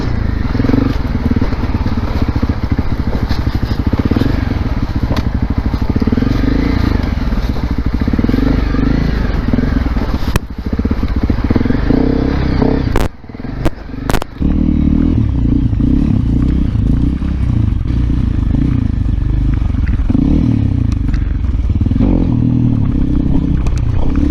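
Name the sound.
Honda CRF250L Rally motorcycle riding off-road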